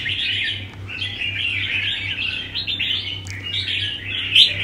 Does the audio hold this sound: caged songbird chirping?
yes